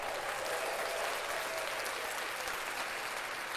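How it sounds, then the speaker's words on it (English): A short burst of dense, steady clapping from a group, heard quietly and without any talking over it. "Gotta clap that up."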